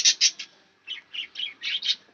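Pet budgerigars in a cage, a few close, sharp chirps at first, then a quicker run of short twittering calls.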